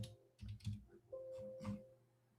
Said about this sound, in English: Am I typing this right?